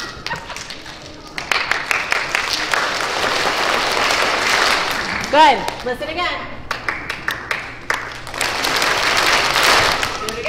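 A group of pre-K to third-grade children at a school character-education assembly clap a rhythm together, bursts of clapping rising and falling with a brief pause partway, while an adult speaks over it.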